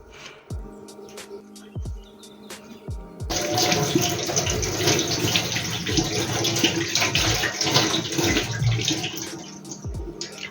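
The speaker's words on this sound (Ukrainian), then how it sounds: "Білий гриб. Добре обчищаю, гарно мию." A porcini mushroom is washed by hand in a kitchen. A few light knocks and drips come first, then a tap opens and water runs steadily under the handling, close and continuous. No one speaks.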